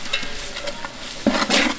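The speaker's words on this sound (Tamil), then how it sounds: "இப்போ இதோட பச்சை வாசனை போகிற வரைக்கும் நல்லா வதக்கிக்கலாம்." Onion with ginger garlic paste sautéing in a pan, a brief close sizzle with quick stirring scrapes that grow louder toward the end, no talking.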